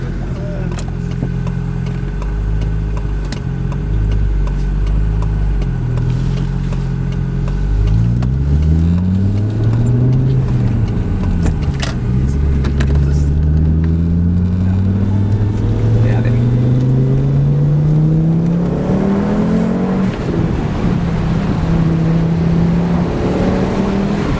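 Audi S2 Quattro engine revving and pulling up through the gears at a hill climb, loud and close, the pitch rising and dropping, with voices talking over it.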